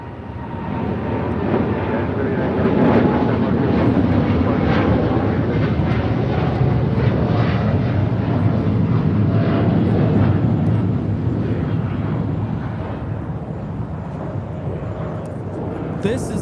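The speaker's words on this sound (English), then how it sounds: "This is United Airlines 39 taking off to Tokyo, Haneda on a 787-10 Dreamliner." United Airlines Boeing 787-10 Dreamliner taking off from LAX, bound for Tokyo Haneda: a loud, sustained jet engine roar that swells and holds steady before easing slightly toward the end.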